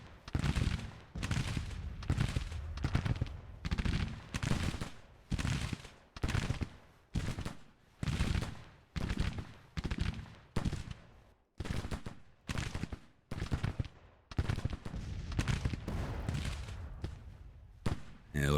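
Musket volleys fire in rapid succession across a Civil War battle in Grand Tactician: The Civil War, dense overlapping cracks and pops rolling on almost continuously, with brief gaps between bursts.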